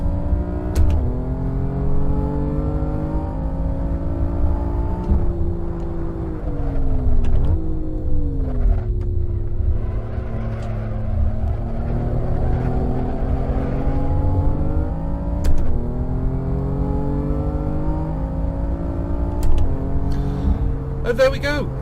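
A BMW M3 engine in the racing game Assetto Corsa drones and rises and falls through gear changes, loud and continuous, with someone talking over it.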